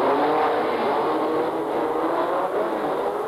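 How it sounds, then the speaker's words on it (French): Simca 1000 rally cars racing on a circuit, a dense continuous roar of revving engines close and loud throughout. "et au tour suivant, les Simca 1000 attaquent"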